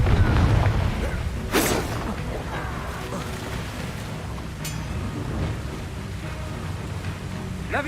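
A Confringo fire spell goes off in Hogwarts Legacy, a loud booming burst at the start that rumbles on into sustained crackling fire and chaotic battle noise, with a second sharp blast partway through.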